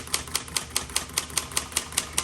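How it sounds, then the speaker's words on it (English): A 1959 Smith Corona Galaxie manual typewriter typing a run of X's across a line, crisp evenly spaced key strikes, about eleven in quick regular rhythm, close and clear with no talk. "So the thing about typing, when you make mistakes, it's okay, you just X through it."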